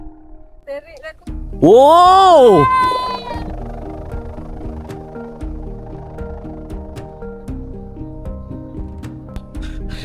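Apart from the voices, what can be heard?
bamboo hummer of a flying wau kite droning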